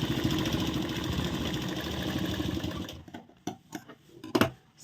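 A sewing machine stitches a blouse sleeve in a steady, rapid mechanical chatter for about three seconds, then stops, leaving a few scattered clicks and fabric-handling sounds nearby.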